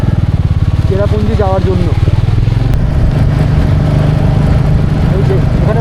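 A motorcycle on a ride from Shillong toward Cherrapunji in Meghalaya runs with a steady, close, low engine drone throughout, heard under someone talking.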